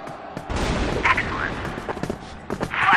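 Gunfire exchange in the CrossFire first-person shooter during a WCG 2009 grand final match, with several sharp shots and bursts over crowd and caster noise throughout.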